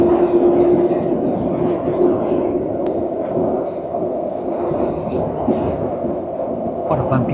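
A London Underground train rattles and rumbles continuously on a bumpy, uneven ride, with a steady low roar, clanks and jolts close by and an occasional faint voice beneath the din.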